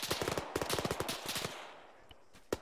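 Video game machine gun fire rattles in fast bursts of sharp shots for about a second and a half, then fades to a quieter tail with a single later crack, no talking over it.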